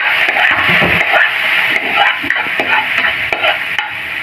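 Garlic frying for squid bistek crackles loudly and steadily in a pan, with a dense hiss broken by soft stirring clatters and scrapes, no talking.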